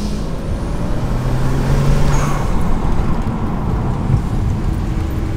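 Tuned BMW driving on the road, its engine and tyre noise a steady low rumble with a brief tonal whine rising partway through, fairly loud and continuous, heard from inside the car.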